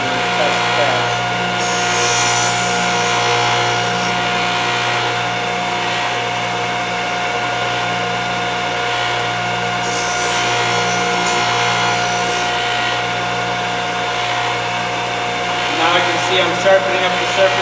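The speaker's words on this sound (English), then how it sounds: "I'm sharpening up the surface pretty good now." Thorvie AV-40 sharpening machine grinding a router bit, a steady motor whine with continuous abrasive grinding hiss, surging brighter in a few bursts, close and loud throughout.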